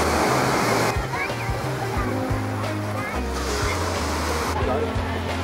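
Sea waves wash onto a beach in Crete in a steady, broad surf roar that fills the scene, with low voices faintly underneath.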